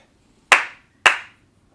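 Two sharp, loud hand claps about half a second apart, close and isolated, each with a short decaying ring in a quiet room, used to sync a recording.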